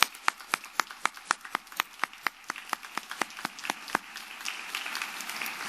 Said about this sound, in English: Let us give them a big round of applause again